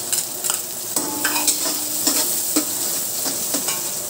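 Garlic and onion sautéing in hot oil in a pan, a steady close sizzle with repeated scraping and stirring strokes of a spatula.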